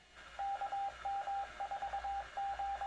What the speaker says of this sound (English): That sound is the repeater identifying.